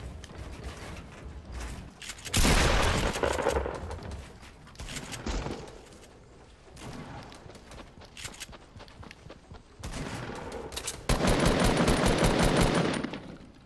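Gunfire in a squad battle video game, with bursts of rapid automatic fire and other game effects rising and falling in loud stretches, separated by quieter moments.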